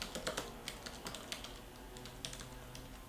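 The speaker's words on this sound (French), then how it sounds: "je vais sur la barre de recherche Facebook et je tape" Soft, quick keystrokes on a computer keyboard while entering a restaurant name into the Facebook search bar, faint and close, with scattered taps over a low background hum.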